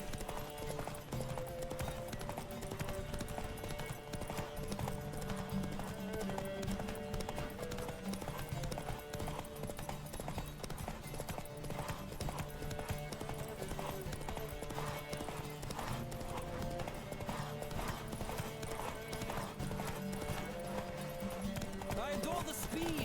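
Steady clip-clop of galloping hooves in The Witcher 3: Wild Hunt runs throughout over a busy music bed, with a voice talking over it now and then.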